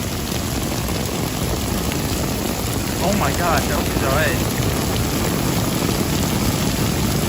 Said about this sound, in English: loud hardcore rain bro